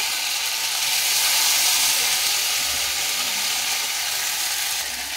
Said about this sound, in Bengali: আদা জিরে কষিয়ে নিতে হবে